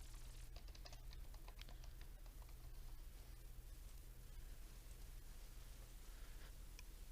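Rapid, irregular keystrokes on a computer keyboard entering candidate details into a database, a close clatter over a steady electrical hum, with no voices.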